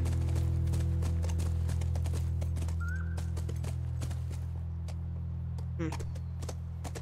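Horse hooves clip-clop steadily in The Last of Us, the 2013 video game, a soft continuous trot under a low droning backdrop while people talk over it.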